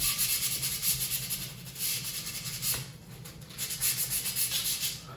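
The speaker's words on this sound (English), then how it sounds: "We'll see what happens when I sand it, just so you could tell that it was really brass." Sandpaper rubbing steadily over a brass candlestick, a continuous close scratchy hiss with rhythmic back-and-forth strokes and no voices.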